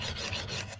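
Steel blade edge being worked on a Work Sharp sharpener with light pressure, a steady close rasping, filing scrape running continuously through the short moment with slight pulses.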